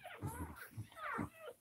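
Newborn puppies whimper and whine in short, high, wavering cries during a dog's labor, several overlapping yelps close by with no talking.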